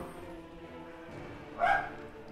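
A single short dog bark in the Mount & Blade: Warband game, fairly close and distinct over a low background rumble.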